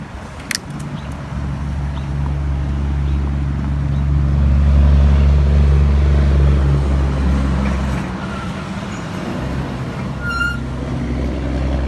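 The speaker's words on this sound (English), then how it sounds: "with the background traffic and noise" Steady roar of road traffic beside a bike trail near Burlington and Riverside, with passing vehicles, a continuous low rumble that swells in the middle and eases off, no talking.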